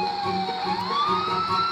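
A police car siren wails steadily, its tone sliding slowly upward, loud and continuous throughout with no pause or talk.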